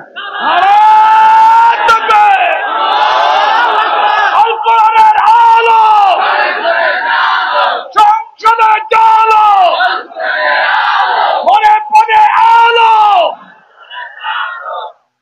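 A large crowd at an Islamic religious gathering shouts the takbir in loud, sustained chorus, repeated several times in waves with brief breaks between the calls.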